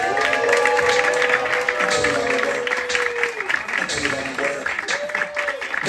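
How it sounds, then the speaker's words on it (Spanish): A live audience at an improv show applauds, a broad wash of clapping and crowd noise carrying throughout while a voice speaks over it. "Quiero un fuerte aplauso para Frances Morales."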